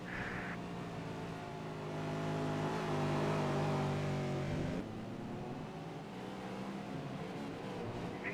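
Scott McLaughlin's V8 Supercar roars through a qualifying hot lap at Sonoma. The engine drone holds loud and steady, with pitch sweeps as it revs and shifts, then eases off and builds again.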